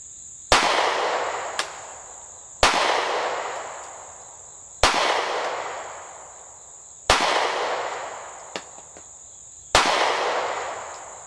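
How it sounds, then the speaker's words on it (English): SCCY CPX2 pistol fired at an outdoor range: five loud, evenly spaced gunshots about two seconds apart, each with a long trailing echo, with faint clicks in between and a steady insect buzz behind. "we'll go ahead and start shooting now"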